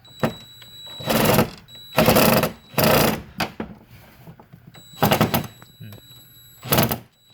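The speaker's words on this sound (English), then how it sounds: "We go around until the impact driver clicks." Impact driver tightening the bolts of a TV wall mount, several loud ratcheting bursts of about a second each with short pauses between them, close by.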